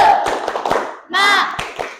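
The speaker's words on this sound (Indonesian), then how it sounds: "Tepuk semangat." A class of children does a rhythmic spirit clap, several sharp claps in quick pattern near the listener, interrupted by a loud chant of voices.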